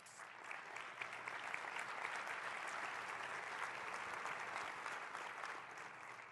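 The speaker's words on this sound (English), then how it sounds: "you can clap it up for that" An audience at a business training event applauds, a steady wash of many hands clapping that fills the room at moderate distance and tapers slightly at the end.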